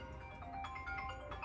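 A mobile phone ringing indoors, a steady electronic tone with repeating melodic notes over a low background hum.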